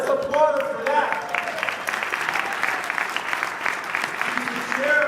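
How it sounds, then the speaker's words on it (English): Audience at a county Democratic Party awards celebration applauding, a dense, steady wash of many hands clapping in a large room, with faint voices mixed in. "Let's applaud her for that."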